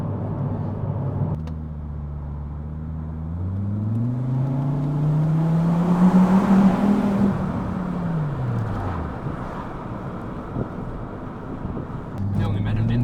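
A 2003 Volvo T5 with an upgraded exhaust drives past, its engine note climbing as it revs up and then falling away, with wind noise over the microphone.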